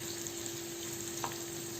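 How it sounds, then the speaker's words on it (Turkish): Onions sizzle steadily in hot butter, a continuous soft frying hiss with no talking. "Sararıncaya kadar kavuracağım."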